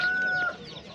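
Chickens clucking at an open poultry market in Sungurlu, Çorum, a steady overlapping chorus of birds close by, continuous and fairly loud with no voices.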